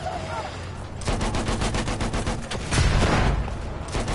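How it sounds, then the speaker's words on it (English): Battlefield 1 machine gun fire: a rapid, evenly spaced string of loud close shots bursts out after a brief lull and rattles on for a few seconds, joined by heavier thuds near the end. "Look out! Machine gun!"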